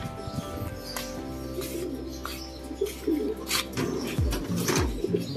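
Pigeons coo softly in repeated low, throaty calls, with occasional chirps and wing flutters nearby. A few faint voices speak in the background.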